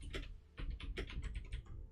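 Keys clatter on a computer keyboard in quick, uneven bursts of clicks, fairly faint and close, with no talking.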